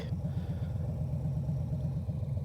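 A 2020 Harley-Davidson Softail Low Rider S motorcycle engine idling close by, a loud, deep, lumpy rumble with a rapid uneven pulsing beat that continues steadily on its own.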